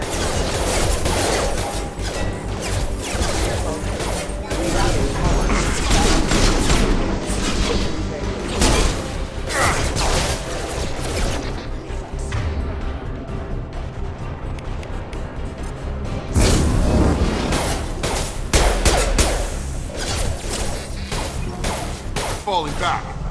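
Loud, dense gunfire and impacts fill a Mass Effect 2 video game battle, bursts of shots and crashes coming in waves with a slight lull midway, while characters talk over the combat.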